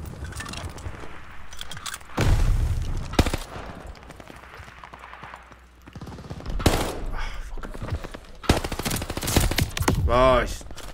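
Gunfire and explosive blasts in the Call of Duty Vanguard multiplayer video game, arriving as several loud separate bursts between quieter stretches, with some voices in the mix.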